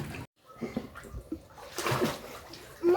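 Two young girls splash and play in a giant inflatable pool. Steady water sloshing and splashing carries on throughout, with faint children's voices mixed in and a brief drop to near silence early on.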